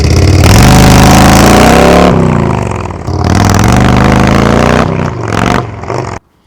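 A motorcycle with a TAB Performance Redline Series 2-into-1 exhaust revs loudly several times, rising and falling in pitch with deep throaty roars, very close, then cuts off.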